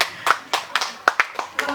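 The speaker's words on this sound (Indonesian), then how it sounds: "Terima kasih tepuk tangannya." Scattered hand claps from a small congregation at a church thanksgiving service, about eight sharp, uneven claps over a couple of seconds, fairly close and thin rather than a full ovation.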